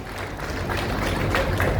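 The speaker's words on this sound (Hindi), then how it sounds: "एक बार जोरदार तालियां" Audience applause at a speech event in Delhi marking the launch of a new mammography machine: a dense, steady wash of many hands clapping, loud and close, with no voices over it.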